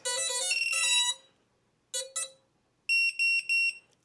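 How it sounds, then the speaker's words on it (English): A micro buzzer on an FPV quad sounds on power-up: a burst of bright electronic tones, a short pair of chirps, then three even beeps, close and loud against silence. "All right, so we are hearing some beeping."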